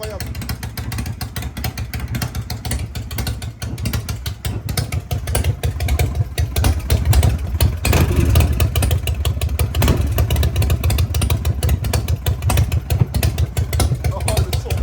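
A French racing motorcycle, one with a damaged engine, idles with a loud, rough, steady rumble and small throttle blips, while people talk over it throughout.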